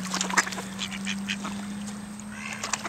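Male ducks quack repeatedly in short, close bursts over a steady low hum while being fed bread in a park, with a few sharper calls standing out.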